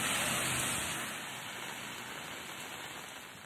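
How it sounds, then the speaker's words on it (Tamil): Intermittent, widespread rain falls across Nagapattinam district as a steady broadband hiss that starts fuller and eases slightly softer, with no voices. "விட்டுவிட்டு பரவலாக மழை பெய்து வருகிறது"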